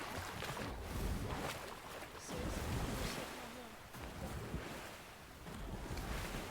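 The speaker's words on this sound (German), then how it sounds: "was sind das für geile Wellen?" Ocean waves in the video game Fortnite wash and roll continuously, a soft windy surf hiss with gentle swells, heard fairly quietly.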